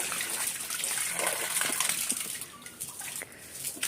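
Water gushing and splashing while a pool is being filled, a continuous bright rushing spray with uneven surges, close and fairly loud.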